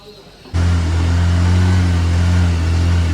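A Honda Activa scooter engine catches after a quiet moment and settles into a loud, steady low idle close by, running evenly to the end.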